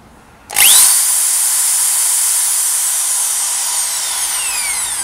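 Corded Makita hammer drill switched on with no bit fitted, a sudden start into a loud, high, steady motor whine that holds evenly for several seconds, alone and close.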